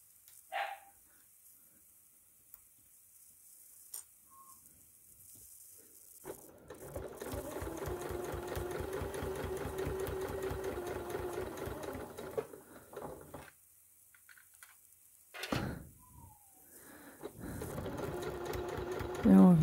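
Domestic sewing machine stitching fabric in short, rapid mechanical runs of clattering needle strokes, separated by quiet pauses and small handling clicks, with someone speaking French softly in between.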